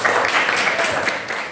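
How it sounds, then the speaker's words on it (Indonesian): Classroom applause from students at a high school, a dense burst of hand clapping filling the room at close range, with some voices mixed in. "Tepuk tangan dulu untuk kita semua."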